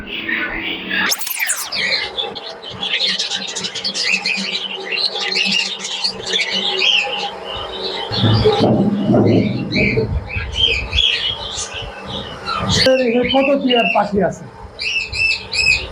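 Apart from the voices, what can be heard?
budgerigars, cockatiels, parrots and lovebirds in an aviary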